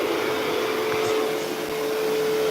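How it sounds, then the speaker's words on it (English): A DeWalt Subsonic vacuum runs steadily during bathroom tile and tub refinishing work, a smooth continuous hum with a faint steady tone and no breaks, fairly loud and close, with no talking. "The vacuum is so quiet. I love it."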